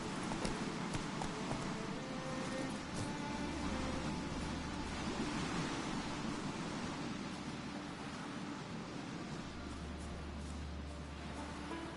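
Hooves of Roach, Geralt's horse in The Witcher game, clop along in a steady pace under a broad wash of wind-like ambient noise, with no voices present.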